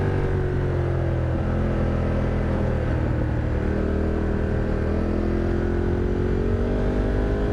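A Ducati Multistrada motorcycle engine revs hard and holds high as the rear wheel spins up, a dense continuous roar with slight pitch wavering, close and loud throughout.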